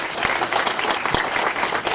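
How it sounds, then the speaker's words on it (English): A room full of people gives dense, continuous applause to an event organizer at a political gathering, steady and fairly loud for two seconds with no talk over it. "Let's give her a round of applause for putting all these amazing events together."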